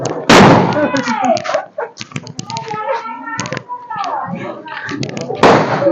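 A loud Diwali firecracker bang opens and another sharp blast closes, with excited talking and background chatter in between.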